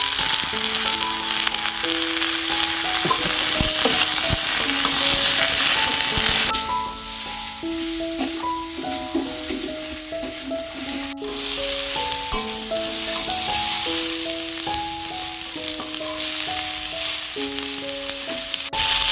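Potatoes and green chilies sizzle and fry steadily in a pan, a loud, continuous crackling hiss with occasional stirring, while a melodic music track plays over it.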